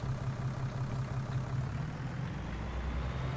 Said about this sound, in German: Erstmal Motor an.